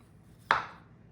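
A knife slices the dry end off an orange in a single short, crisp cut, close and clear against a quiet background.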